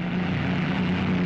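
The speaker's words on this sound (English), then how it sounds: "Plane swoops down with a skyhook" Propeller airplane swooping down with a skyhook for an airborne pickup, a loud, steady droning engine roar with a strong low hum, close and continuous throughout without any talking.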